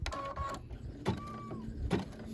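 An embroidery machine stitches a Lolly doll, giving short mechanical whirring bursts with pauses between them, close and fairly quiet with no talking.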